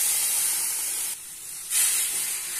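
Milk poured into a hot pan hisses loudly with steam, a dense broad rush that dips briefly halfway through and then surges back, with no talking.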